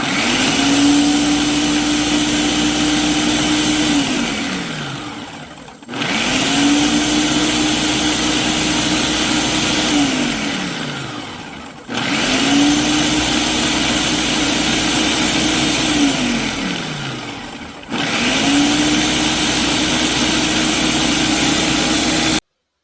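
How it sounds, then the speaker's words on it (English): A Ninja blender on its frozen food setting grinds a packed load of greens in four loud, steady pulses of motor whine, each running several seconds before winding down into a brief pause. "I popped both greens in my Ninja blender, and I'll use the frozen food setting to process these."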